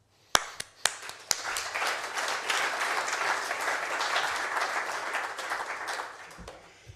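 A meeting audience marking the National Cycle Network's anniversary gives applause: a few isolated claps start it, then a full round of steady clapping swells and fades away near the end.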